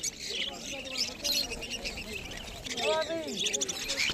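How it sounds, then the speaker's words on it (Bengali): Budgerigars chirp and warble at a busy rural bird market, many overlapping high twitters near and far, with a person talking beneath the birds. "এখানে যে বদ্রি পাখিগুলো দেখা যাচ্ছে"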